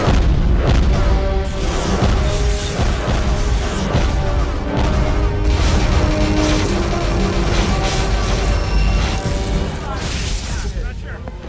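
Spaceship weapons fire and explosions roar through a space battle, a dense, continuous barrage of booms and blasts, loud and close, with voices talking over the din.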